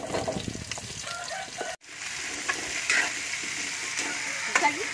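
Squash hits a pan with browned onions and sautés with a loud, close sizzle, scraped by a ladle in stirring strokes over a steady frying hiss.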